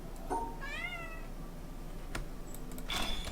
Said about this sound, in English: I've never had Harvey meow so much during a stream.